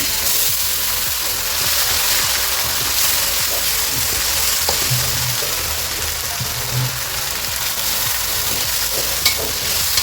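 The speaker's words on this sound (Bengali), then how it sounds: "এখন আমি আদা আর রসুন একত্রে দিয়ে দিচ্ছি।" Ginger and garlic fry with browned onions in a pan for chicken pulao, giving a loud, continuous sizzle with occasional stirring clinks and scrapes close by.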